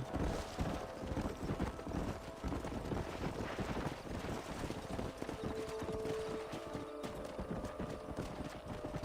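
Horse hooves clip-clop steadily in the video game Red Dead Redemption, a continuous galloping rhythm with a faint whinny partway through and a soft wind-like background.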